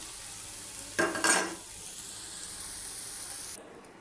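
Beef filling with green chillies is stirred in a frying pan: a brief scraping burst of utensil against the pan, then a steady low sizzle.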